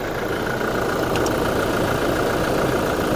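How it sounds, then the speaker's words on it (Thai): A 2018 Toyota Fortuner 2.4V engine idles steadily with an even mechanical hum and rattle, close and continuous, with no voices. "ฟังเสียงเครื่องยนต์"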